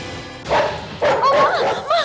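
A police squad dog barks and yips in short excited bursts, close and loud, several barks in quick succession with some whining.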